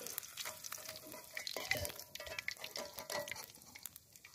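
Traditional sambal spices fry in a pan, a dense close sizzle broken by frequent stirring scrapes and small wet pops.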